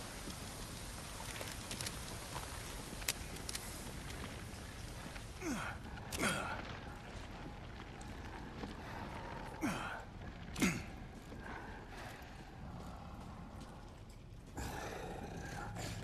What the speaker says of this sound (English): Bitch, who's breathing?